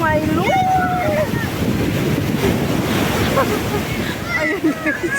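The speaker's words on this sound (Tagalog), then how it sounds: "ang grabe alon" Waves wash onto an Egyptian beach in a continuous rushing roar, heavily buffeted by wind against the microphone, while voices talk excitedly over it.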